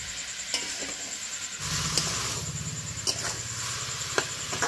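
Ash gourd with salt frying in a pan over high heat: a quiet start, then a steady close sizzle with sharp scrapes and clicks of stirring scattered throughout.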